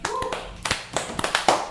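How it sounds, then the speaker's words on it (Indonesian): Hands clapping in a podcast studio, a quick run of about six or seven close, crisp claps at an uneven pace. "Tepuk tangan nih."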